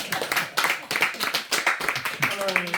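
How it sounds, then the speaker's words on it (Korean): An audience at a humanities academy lecture claps in a lively, rapid patter of many hands, close and steady for a few seconds with faint voices beneath. "박수."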